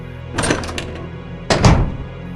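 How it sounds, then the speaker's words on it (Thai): Two heavy wooden thunks about a second apart as a door is opened and then closed, close and fairly loud, with no talk over them. "ามด้วยเสียงประตูเปิดปิด"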